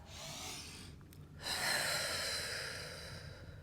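Slow breathing during a mat Pilates exercise, a soft inhale and exhale close by, faint and alone.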